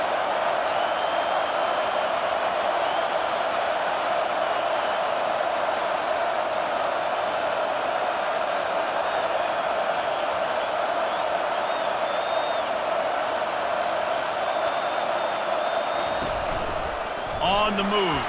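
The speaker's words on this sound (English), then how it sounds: "Decibels rising as the crowd gets behind this defense on 3rd down." A stadium crowd roars steadily in EA Sports College Football 25 as fans get loud for the defense on third down, a dense, constant wash of cheering noise that holds unbroken for the whole stretch and dips only briefly near the end.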